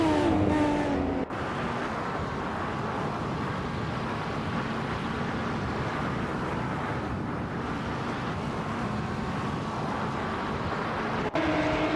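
AI race cars drone steadily in a racing video game, a continuous engine roar with little variation and no speech.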